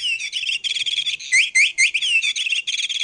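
A small chirping bird cat toy sends out loud, close, rapid electronic tweets and warbling whistles in quick bursts, with brief gaps between phrases and no talking.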